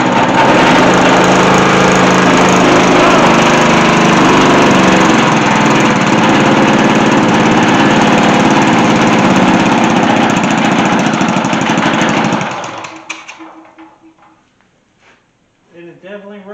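A Champion 4500 generator engine running rough under repair, its loud buzzing drone holding steady before cutting out abruptly, followed by a few faint clunks and quieter sounds.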